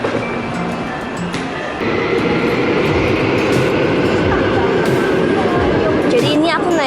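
An express train from Incheon to Seoul Station rumbles along with a steady, loud roar and faint rhythmic rail clatter, heard from inside the carriage with voices talking over it.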